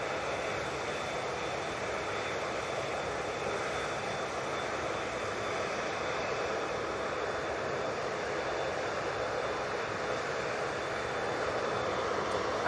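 Ryanair airliner engines at Manchester Airport, a constant broadband jet roar at moderate distance, steady and unbroken with no talk.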